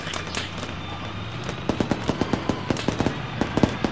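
Rapid automatic rifle fire rattles in Arma 3 during a Pacific island defense battle, with bursts of quick cracks getting denser and louder over the last half, at moderate distance.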